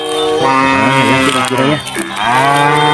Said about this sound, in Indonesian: Di sini masih ada suara sapi teman-teman.